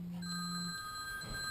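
An iPhone 4 sealed inside a LifeProof waterproof case rings faintly, a thin muffled electronic tone with sustained high partials and a brief low hum at the start.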